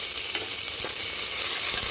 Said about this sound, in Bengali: আদাটাকে এর মধ্যে ভালো করে ভেজে নেব